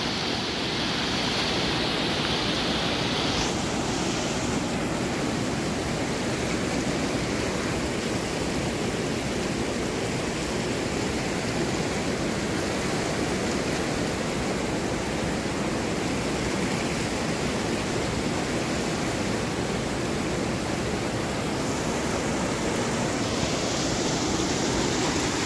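A flowing mountain stream rushes steadily as a loud, continuous wash of water for the whole stretch, with no voices.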